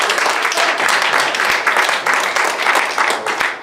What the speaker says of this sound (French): On peut tout de même applaudir